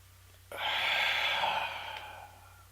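One deep breath, drawn in sharply and then slowly let out as a long, soft, airy rush that fades over about two seconds, close and alone with no talk.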